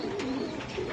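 Pigeons in a loft coo in a short, low, rolling burst close by, about a second long, with faint rustling and ambient murmur around them.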